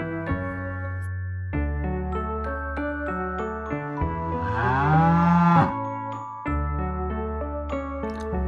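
A cow gives one long, loud lowing moo over light instrumental backing music, the call swelling and then cutting off.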